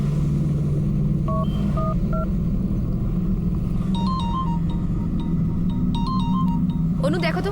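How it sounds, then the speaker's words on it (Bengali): An electronic telephone ringtone chirps in short two-tone beeping bursts during a Bengali television drama scene, heard over a steady low rumble with a brief noisy swell at the end. "অনু দেখো তো কে ফোন করেছে।"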